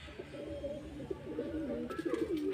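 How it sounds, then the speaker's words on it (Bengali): Low, throaty cooing from a female Giribaz pigeon repeats in soft rolling phrases, close and fairly clear, with a faint rustle near the end. "তো দেখে নাও এখানে গিরিবাজের আছে, এটা মাদি পায়রা আছে।"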